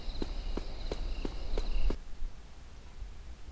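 Six evenly spaced footsteps sound in Thief: Deadly Shadows, each a crisp soft tap, walking at a steady pace before stopping abruptly and leaving faint background rumble.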